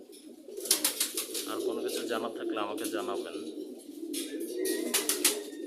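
Pigeons kept indoors in a room coo in low, rolling, repeated calls, with someone talking over much of the cooing.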